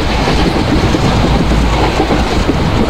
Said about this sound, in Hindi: 110 से ऊपर ले गए हम अपनी ट्रेन जो कि ICF है।